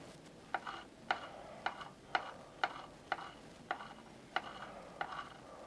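Faint, regular ratchet clicks come at about two per second while nuts are tightened to fit a tiller onto a heavy walk-behind tractor. Each click is a short, sharp mechanical snap over quiet background.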